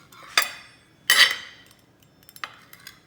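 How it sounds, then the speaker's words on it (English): A pizza cutter rolls through Canadian bacon on a board for a homemade pizza, giving a few sharp scraping clicks in separate bursts, with one longer grinding pass, then lighter taps in a quiet kitchen. "I just use my pizza cutter to cut it in thin slices so we can put it all over the pizza"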